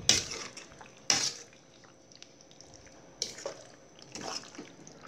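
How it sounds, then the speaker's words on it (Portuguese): A fork stirs cream into pasta in a pan, giving a few sharp metallic clinks and scrapes spaced apart, with soft wet mixing between them. The sound is close and moderately quiet, and nobody speaks. "Vou dar uma misturada com garfo."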